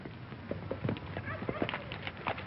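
Horses' hooves clip-clop on hard ground in an old Western film, an irregular series of fairly close knocks with the soundtrack's murmur underneath.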